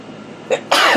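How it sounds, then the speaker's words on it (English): One sharp sneeze from a woman, a short intake followed by a loud explosive burst at the end of a quiet second. "Excuse me, I had to sneeze."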